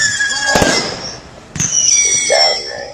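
Fireworks bursting outdoors: two sharp, loud bangs about a second apart, each trailed by crackling and high whistling fizz that lingers through the rest of the moment.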